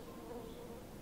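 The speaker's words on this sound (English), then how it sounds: "Is that a bee? Is that on the episode, or is that in here with me?" A bee buzzes steadily and faintly at close range, a continuous drone with no talking.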